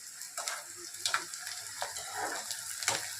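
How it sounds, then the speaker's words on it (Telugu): Onions and green chillies frying in a pan, a close, steady sizzle with occasional stirring scrapes and clicks, and no voices. "ఉల్లిపాయ పచ్చిమిరపకాయ బాగా వేగిన తర్వాత చక్కగా గోల్డ్ కలర్లో రావాలి"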